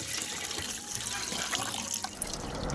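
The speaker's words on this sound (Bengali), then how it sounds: "এখন মাংসগুলো আমরা এখন ভালো করে ধুয়ে নেব।" Water runs from a tap over cut chicken pieces being washed in a sink, a steady close trickle and splash with brief handling noises and no talking.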